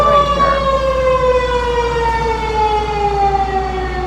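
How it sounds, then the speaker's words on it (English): Emergency vehicle siren passing outside, a loud steady wail with a slowly falling pitch, heard alone and sustained throughout. "we'll let that siren pass here first"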